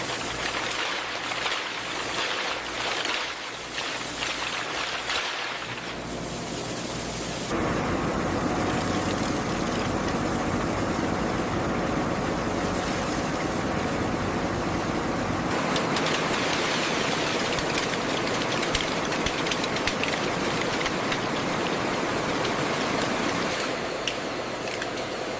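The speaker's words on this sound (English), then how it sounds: "Inside the washer, cold water strikes every shell from several directions." Cold water blasting onto scallop shells inside an industrial washing machine at a Korean processing factory, a loud continuous rushing spray mixed with machine hum that shifts in intensity as the flow changes.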